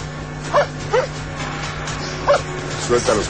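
Dogs giving short yips and whimpers in a few separate bursts, close by, over a steady low hum with voices underneath.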